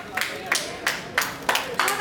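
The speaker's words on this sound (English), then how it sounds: "Clap." Sparse, light clapping from a few people at a cricket tournament awards ceremony, about six separate claps spread unevenly across two seconds, fairly quiet and close, with no talk over it.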